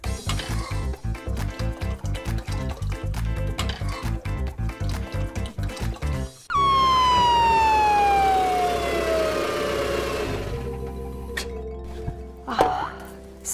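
A toy ambulance siren in a doll play scene sounds after a run of rhythmic pulsing tones, then a loud, close wail sweeps steadily down in pitch and fades out, ending with a few small knocks.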